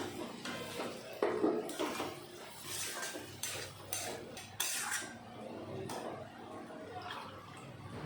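Fried potatoes and carrots stirred in a pan for a mixed vegetable and paneer dish, a spoon scraping and clinking against the metal in irregular bursts, close and fairly loud with a soft sizzle underneath.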